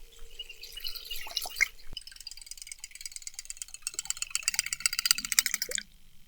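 Buzzbait fishing lure pulled through water, giving a subtle, fast, rhythmic clicking and gurgling patter with a few splashy drips, fairly close and moderately quiet, fading out at the end.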